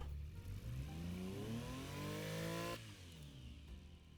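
A car engine fitted with a baffled exhaust in the BeamNG driving game revs up with a rising buzzy whine, then cuts abruptly to a lower idle drone, heard alone without speech.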